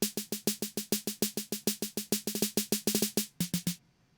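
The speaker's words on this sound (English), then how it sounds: "add in a second snare" A snare drum hits alone in a fast, steady pattern of crisp, close strikes, with a few quicker double hits near the end before it stops.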